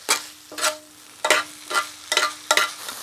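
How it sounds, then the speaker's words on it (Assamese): Minced meat for keema anda curry is stirred in a frying pan, making six distinct scraping strokes in an uneven rhythm over a low sizzle, close and moderately loud, with no talk. "এতিয়া ভালকে মিক্স কৰি দিম।"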